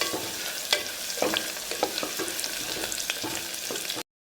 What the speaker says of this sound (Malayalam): ഇതിലേക്ക് ഞാൻ ഇഞ്ചിയും വെളുത്തുള്ളിയും കൂടെ ചോപ്പ് ചെയ്തതുകൂടെ ഇട്ട് കൊടുക്കുകയാണ് എൻ്റെ പച്ചമണം മാറുന്ന വരെ ഇത് വഴറ്റണം